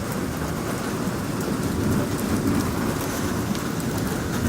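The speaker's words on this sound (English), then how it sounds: "how can someone sleep through a storm like this?" Heavy rain pours steadily outside a door during a thunderstorm, a dense, loud hiss with a low rumble beneath it that runs unbroken throughout.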